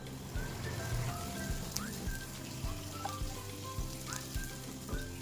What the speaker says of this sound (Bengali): এটাকে হালকা করে আমরা সটে করে নেব যাতে ক্রাঞ্চিসটা থাকে সবজি